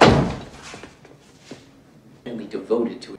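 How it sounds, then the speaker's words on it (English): A door thuds shut at the start with a solid, close knock, followed by quieter handling sounds and people talking. "Close the door behind you."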